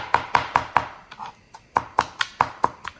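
A knife chops ginger on a cutting board in a quick, even series of sharp taps that pauses briefly midway and then resumes, close and clear.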